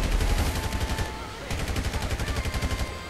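Rapid bursts of automatic gunfire from a GTA 5 Online shootout, a dense rattling volley that pauses briefly midway and then resumes in a steady repeating rhythm, loud and close.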